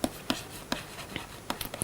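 Chalk or marker writes on a board during a math lecture, producing quiet, irregular taps and short scratchy strokes close by, with no talking.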